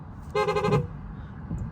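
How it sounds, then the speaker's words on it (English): A 2022 Tesla Model X horn, pressed with a palm on the yoke steering wheel, gives one short, fairly loud honk lasting about half a second, followed by quiet background. "So you could push it once like this and it will honk"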